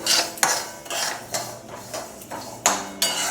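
Moong dal roasting in a pan while being stirred, a spoon repeatedly scraping and knocking against the metal in a steady, close rhythm of separate strokes with a sizzling hiss underneath.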